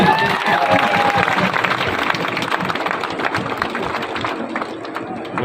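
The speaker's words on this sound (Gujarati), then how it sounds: "મારુતિ માટે આપણે એક વખત ફરીથી તાળીઓ પાડીએ" An audience at a devotional bhajan programme applauds, a dense, steady wash of clapping from a large crowd that fades a little toward the end, with faint voices mixed in.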